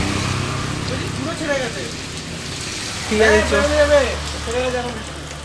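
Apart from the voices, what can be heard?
rain falling, stopping during a bike tour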